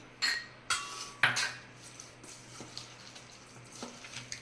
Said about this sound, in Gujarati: મેશ કરતી વખતે ધ્યાન રાખવાનું કે બટેકા એકદમ પ્રોપર મેશ થઈ જવા જોઈએ